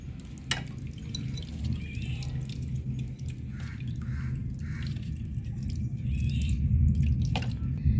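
Water runs and splashes while a cleaned white conch shell bangle is rinsed, a continuous close trickle with scattered drips and light handling knocks that grow slightly louder toward the end.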